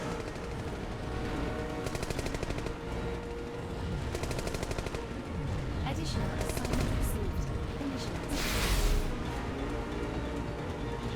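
Gunfire in the Secret World Legends video game as a player shoots at enemies driving ahead, with rapid bursts and steady shots over a dense, busy game soundscape of engines and effects throughout.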